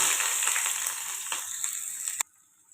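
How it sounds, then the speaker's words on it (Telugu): Onion sizzling in hot oil in a pan, a loud, steady crackling fry that cuts off abruptly near the end, leaving near silence. "నూనె కాగిన తర్వాత ఆనియన్ వేసుకోవాలి."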